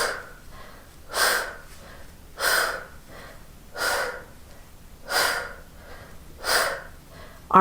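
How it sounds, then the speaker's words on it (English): Heavy rhythmic breathing during an oblique core workout, six or seven loud, evenly spaced exhalations and inhalations close to the microphone, with no talking. "I'm going to breathe now."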